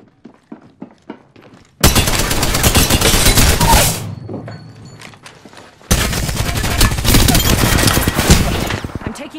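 Apex Legends gunfire in two loud, dense automatic bursts separated by a short lull, with a few lighter clicks and footsteps before the shooting starts.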